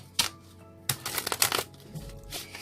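A deck of tarot cards is shuffled in a few quick, crisp riffling bursts close by, with short pauses between them and no voices.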